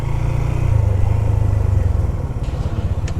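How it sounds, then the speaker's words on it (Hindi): A motorbike ridden along the coast toward a beach in Pakistan, its engine droning steadily and close, with a low rumble that slightly eases near the end. "देखते हैं जहाँ तक हमारी बाइक जा सकती है वहाँ तक बाइक लेके जाएंगे।"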